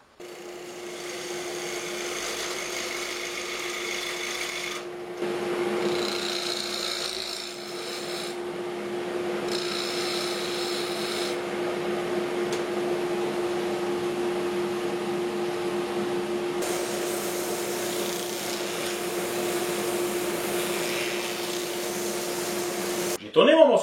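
A piece of wood spun on a lathe and shaped with a cutting tool while making a wooden phone holder, giving a steady motor hum with continuous rasping and scraping that shifts in texture across the pass.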